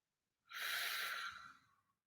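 A single slow, deep breath drawn in audibly, soft and airy at close range, then trailing away into quiet with no talking.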